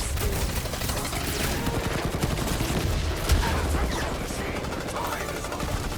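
Dense rapid gunfire and explosions in the Guardians of the Galaxy game during a battle, a loud continuous rattling barrage with one heavier thump partway through, with voices speaking over it.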